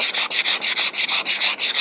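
A surfboard surface sanded by hand with sandpaper in warm weather, close and loud, about a dozen quick, even rasping strokes in a steady rhythm.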